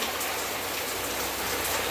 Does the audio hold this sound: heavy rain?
yes